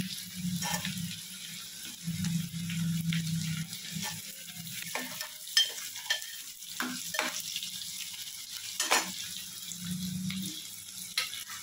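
Onion sautéing in a pan for veg kurma, giving a steady low sizzle with spatula scrapes and clinks scattered over it, close and moderately loud, with no talking.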